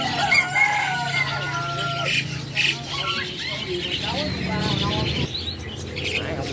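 A pet bird shop full of caged birds, including brown mynas, with dense overlapping chirps, whistles and squawks and a rooster-like crow, loud and near, with people talking over the birds.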